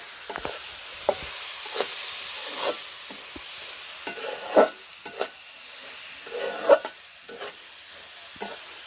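Chepa shutki, Bangladeshi fermented dried fish, being mixed and fried with spices such as coriander powder in a village kitchen; a faint background sizzle broken by repeated scraping and knocking stirs of the utensil against the pan, no talking.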